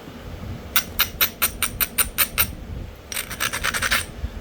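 A flintknapped stone whale point has its edge ground with about ten quick, evenly spaced rasping strokes, a short pause, then a faster burst of scraping rubs, close and clear with no talk.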